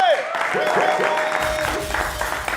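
A television studio audience on a Kenyan talk show breaks into applause and cheering, rising into a dense, lively burst of clapping with voices mixed in after a short opening.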